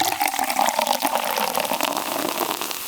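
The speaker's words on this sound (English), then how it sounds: "pour you guys a drink" Liquid being poured into a glass, a steady splashing gush running the whole time, close and fairly loud with no talking over it.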